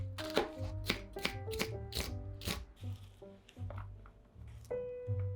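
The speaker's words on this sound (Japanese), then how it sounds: "ピーマンはヘタを取って細切り。" Green peppers being cut into thin strips with a knife, a run of crisp, close chops on a cutting board at an uneven pace, a brief pause, then a few more cuts.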